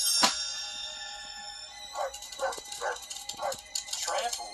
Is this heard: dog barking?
yes